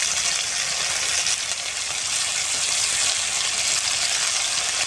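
A large fish head fries in oil with ground ginger, garlic, dried red chilli and cumin paste, giving a steady, loud, close sizzle that holds evenly from start to finish with no talking.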